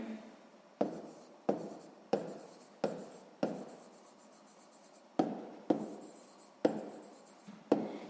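A sixth-grade math word problem being worked out by hand: pen-on-paper writing strokes in about nine distinct scratchy bursts, each fading quickly, close and clear with no voice.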